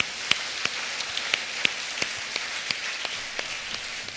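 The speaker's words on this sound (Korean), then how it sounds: "우리 박수로 격려하겠습니다" A church congregation clapping together during a prayer gathering, a steady dense patter of many hands with a few sharper individual claps standing out, continuous and moderately loud with no speech over it.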